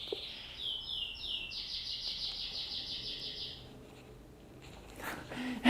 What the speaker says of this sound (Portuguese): Eu me desconcentrei com um passarinho